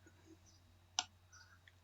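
A single sharp computer mouse click, faint and close, while confirming an assembly step in CREO 7.0 CAD software, followed by a quieter second tick.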